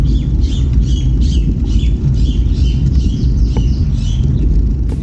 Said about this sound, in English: You can even hear the birds chirping in this shot here.